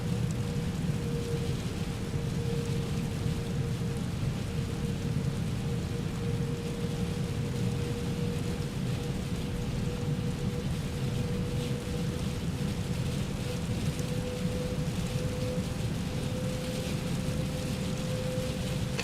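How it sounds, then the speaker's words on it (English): Rain pours steadily during an A321neo approach into Vanuatu, a dense, even hiss of drops over a low cockpit hum and a faint steady tone, with no talk. "There's the rain."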